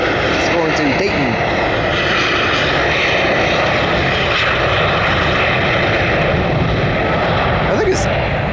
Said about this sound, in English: This right here is a NetJets Bombardier Global 7500.